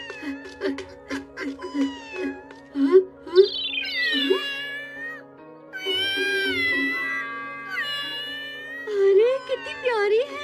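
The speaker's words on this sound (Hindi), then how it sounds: "ये बिल्ली की आवाज कहाँ से आ रही है?" A cartoon kitten meows repeatedly in a Hindi-dubbed Doraemon episode, giving several high, drawn-out cries spread across the scene while voices talk around it.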